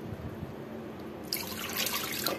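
Water from two glasses poured into a saucepan while making aam panna, a raw mango drink, heard first as faint trickling and then as a louder, splashing pour, with no talking.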